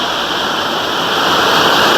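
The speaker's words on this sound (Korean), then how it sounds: "이렇게 시원한 폭포 소리와 더불어" Loud, steady rushing roar of a waterfall in a Bukhansan mountain valley, broadband and continuous, heard close without any voices.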